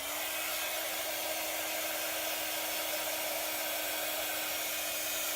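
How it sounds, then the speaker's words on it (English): A craft heat tool for embossing blows steadily and continuously, a loud even rushing whoosh with a faint whine that holds unchanged from start to end, with no talking. "let's get my heat tool fired up."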